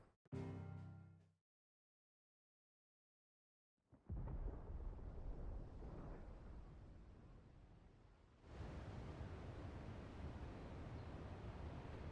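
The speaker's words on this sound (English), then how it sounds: "Sounds like thunder." Thunder in the video game Final Fantasy XVI rolls in after a short musical phrase and silence, a loud, sustained rumbling crash that fades slowly before a second heavy wave of storm noise swells up.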